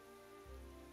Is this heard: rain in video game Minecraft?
yes